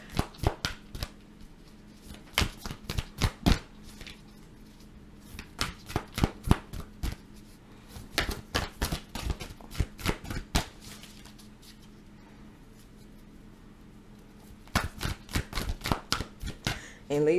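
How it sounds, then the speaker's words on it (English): Tarot cards being shuffled by hand, crisp riffling bursts in repeated clusters separated by short pauses, close and clear with no voice over them. "I was sitting up here, and I'm just sitting up here shuffling, trying to get these final three"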